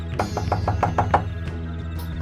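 A door knocked on in a Bangla cartoon: a quick, even run of about seven close, loud knocks, then a short pause and a couple of fainter taps. No voices are heard.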